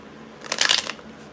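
A deck of playing cards gets one quick shuffle, a short close burst of riffling flutter lasting about half a second.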